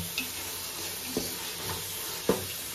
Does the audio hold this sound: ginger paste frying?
yes